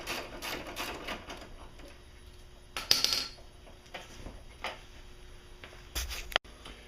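Bolts come off the front bumper of a 2002 Audi S4 with scattered metallic clicks and ratcheting taps, plus a sharper clatter midway, quiet and close in a garage.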